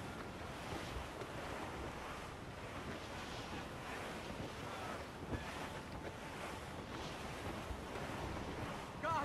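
Rough open sea while sailing the ship Morrigan toward Anticosti in Assassin's Creed Rogue: a steady roar of waves and wind that rises and falls in surges, with no talk heard.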